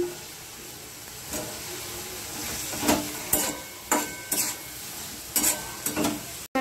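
A pan of cumin, turmeric and Kashmiri red chilli powder paste with chopped small tomato sizzles steadily while a spoon stirs and scrapes it in several distinct strokes, close and moderately loud, for a fish-head and taro-stem curry.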